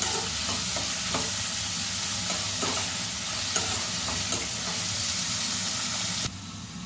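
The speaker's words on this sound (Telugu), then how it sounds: "మంచిగా ఆనియన్స్ కూడా ఫ్రై అయినాక ఇప్పుడు చికెన్ వేసేసుకున్నాం." Chicken fries with browned onions in a pot, giving a continuous close sizzle under irregular scraping stir knocks, before the sound drops away abruptly near the end.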